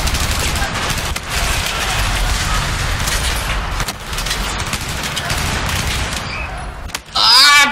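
Rapid, heavy blasts from the USAS-12 automatic shotgun in Battlefield 4, fired in dense overlapping bursts that run almost continuously, loud and close, with a brief lull before a final sharp crack.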